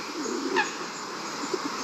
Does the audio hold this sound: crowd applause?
no